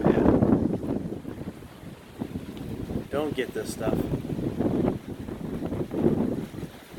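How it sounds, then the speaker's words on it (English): Strong wind buffeting the microphone on a beach at low tide, a steady loud low rumble with gusts rising and falling while a person talks briefly. "It's actually very, very windy out here today."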